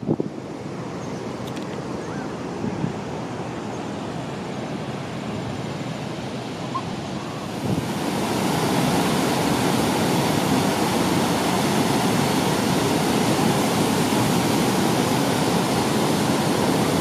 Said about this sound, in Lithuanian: Na va, koks krioklys gan didelis